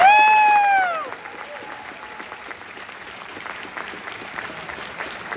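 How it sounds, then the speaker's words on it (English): A screening audience at a Q&A session breaks into applause after a brief tonal chime, the clapping settling into a steady, moderately loud patter with light cheering. "So give yourselves a round of applause."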